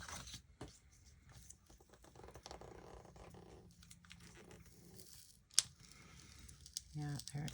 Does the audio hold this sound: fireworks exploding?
no